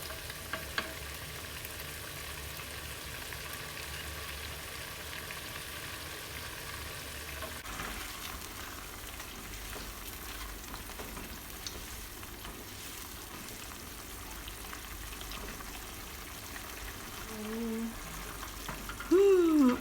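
Soft, steady sizzling and bubbling of squid simmering in boiling chili sauce in a hot pan, fairly quiet, with a brief clatter of stirring near the end.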